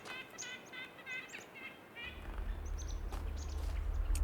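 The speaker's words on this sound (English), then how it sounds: "Where are these birds? They're very loud." Birds in The Talos Principle II chirp in quick, repeated bursts of bright, whistling calls, fairly loud and close, over a low rumbling background that swells partway through.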